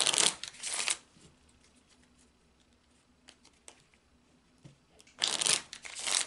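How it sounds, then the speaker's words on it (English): A deck of Kipper cards is shuffled in two brisk riffling bursts, close and crisp, separated by a quiet pause with faint room noise. "So I'm shuffling that into the cards."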